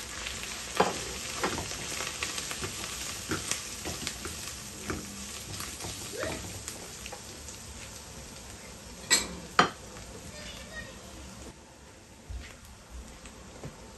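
Ground spices go into softened masala in a pan while cooking pumpkin leaves with black beans, giving a steady close sizzle and frying hiss with occasional stirring scrapes and utensil clinks, no voices.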